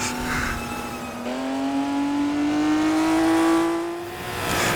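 Car engine in a sim racing game testing 1950s driving technique, a steady tone that drops briefly, then rises smoothly as the revs climb during a double-clutch shift, loud and alone without talk.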